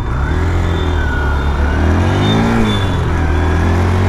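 A Hero Xtreme 125R motorcycle ridden through traffic gives a loud, continuous engine drone that swells slightly in pitch partway through, steady and close throughout.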